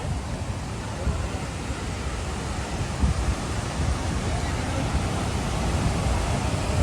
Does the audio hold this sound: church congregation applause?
no